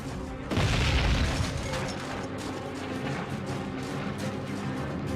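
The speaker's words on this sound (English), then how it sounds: "Incoming mortars! Keep your head down!" Incoming mortar blasts on a World War II battlefield in Call of Duty: Finest Hour, one close heavy boom with a deep low rumble early on, then a sustained noisy wash of distant combat.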